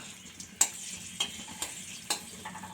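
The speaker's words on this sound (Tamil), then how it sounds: "நெய் நல்லா சூடாயிருச்சுங்க இப்போ இதில் முந்திரி சேர்த்துடலாம் உலர் திராட்சையும் சேர்த்துடலாம்" Cashews and raisins fry in hot ghee with a soft, low sizzle, punctuated by four or five sharp spoon clicks against the pan as they are stirred.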